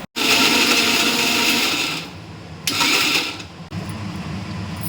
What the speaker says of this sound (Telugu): ఇప్పుడు టమాటోస్ యాడ్ చేసుకోండి. గ్రైండ్ చేసుకోవాలి.